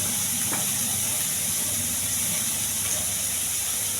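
Lentils, onion and spices fry in hot oil in a cooking pan, a constant close hiss and sizzle without a break.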